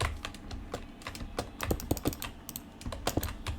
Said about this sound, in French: Désolé si vous entendez trop ma souris et mon clavier